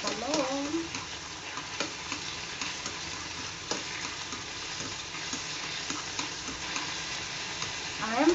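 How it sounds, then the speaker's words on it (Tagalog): Garlic and onion sauté in a hot pan, giving a steady, close sizzle broken by repeated scraping stirs and a few sharper clinks of the spatula, with no voices. "gigisa na natin ng ating bawang at sibuyas"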